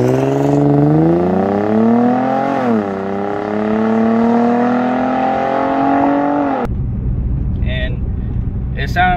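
Nissan G35 with a full catback exhaust revving up close, a loud, smooth engine note that climbs, dips and holds steadily for several seconds before cutting off, followed by a faint voice.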